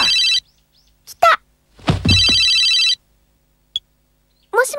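A telephone rings in bursts of bright electronic trilling, loud and close, broken by gaps, a short thump and brief vocal sounds from characters in an anime scene.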